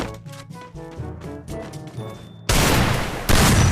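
Gunfire in a 2vs2 custom room video game match erupts suddenly after a stretch of tonal game music, becoming a loud, dense burst of rapid shots that swells again near the end.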